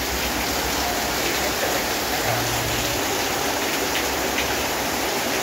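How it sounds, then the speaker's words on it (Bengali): Heavy rain pours down at a market, a loud dense unbroken hiss of falling water heard close and alone without talk. "দেখুন কী পরিমাণ বৃষ্টি।"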